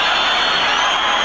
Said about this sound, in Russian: Приободрились трибуны, болельщики подгоняют армейцев вперед.